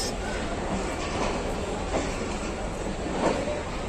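The Allama Iqbal Express passenger train, the 9 Up service from Karachi Cantt, rumbles along with a steady broadband roar and faint rhythmic wheel clatter, heard close from on board.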